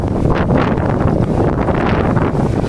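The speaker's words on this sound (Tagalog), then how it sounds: "pasensya na kasi mahangin ha" Loud, constant wind buffets the microphone in rough gusts for the whole stretch, with no other clear sounds.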